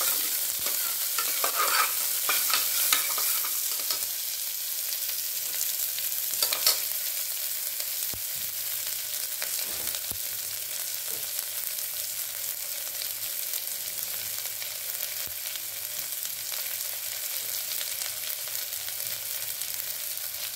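Chopped big onions fry in hot oil for a vegetable kurma, giving a steady close sizzle with occasional stirring clicks and scrapes throughout. No one speaks.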